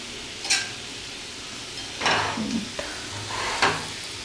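Butter sizzling in a pan for a mushroom omelette, a soft frying hiss under a few scattered stirring scrapes and clinks, with no talking.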